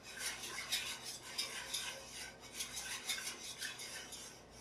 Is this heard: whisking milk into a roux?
yes